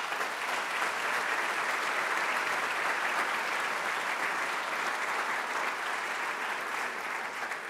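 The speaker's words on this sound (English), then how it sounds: "Let's give her a round of applause." Sustained audience applause at a county government address, a dense, even roar of many hands clapping that continues steadily without pause.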